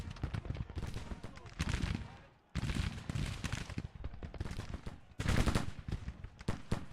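Continuous musket volleys and artillery fire in an American Civil War battle in the strategy game Grand Tactician, Union side in summer 1861: dense crackling gunfire with heavy booms, swelling in bursts and dense throughout, with a voice speaking over it.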